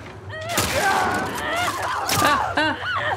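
The player's gun firing in The Last of Us Part I remake, a few sharp shots spaced apart, mixed with in-game voices and other game sounds.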